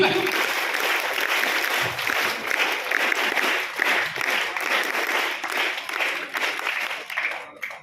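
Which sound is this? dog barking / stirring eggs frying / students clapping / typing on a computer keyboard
students clapping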